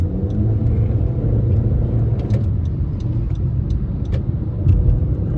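Continuous rumble of passing cars on a busy multi-lane highway, heard from inside a moving car: a dense, loud, steady roar of engines and tyres with small surges as vehicles go by, no talking.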